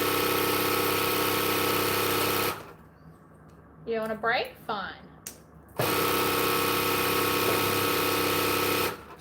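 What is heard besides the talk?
Empress sewing machine winding a bobbin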